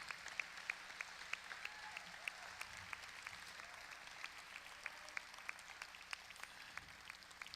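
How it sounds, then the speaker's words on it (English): An audience at a Hall of Fame banquet applauds the inductees with steady, even clapping that continues throughout, moderately distant and without cheering. "how about a round of applause for our wonderful inductees for"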